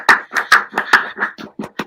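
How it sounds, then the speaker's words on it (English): Slow, deliberate hand claps from a remote audience member joining a home livestream, about nine separate claps spaced roughly a quarter second apart, close and alone with no talking. "That was clapping"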